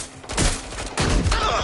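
Bursts of gunfire in the video game Watch Dogs Legion, a dense rattling volley that swells around the middle and again near the end, loud and close, with no talking.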